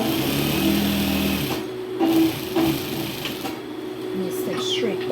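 A sewing machine runs a straight stitch down a pleated school skirt to set its pockets, giving a close, busy motor hum and needle chatter that stops partway through, followed by quieter handling noise.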